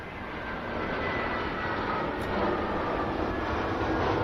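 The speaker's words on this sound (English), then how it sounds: "You can hear the aircraft coming over the top." A passenger jet roars overhead in Train Simulator on the Midland Main Line, a broad, steady rumble that swells slightly louder as it passes over, with no voices.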